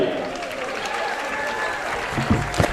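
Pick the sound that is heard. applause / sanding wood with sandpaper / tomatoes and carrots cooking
applause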